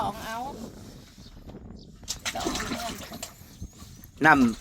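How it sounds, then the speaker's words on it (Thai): Water scooped by bucket from a well in the middle of a rice field: brief splashes and sloshing pours at moderate distance, between stretches of people talking outdoors. "เพิ่นใส่ถังอย่างหรือว่าใส่กระพุ้ย วิธีการตักน้ำสร้าง"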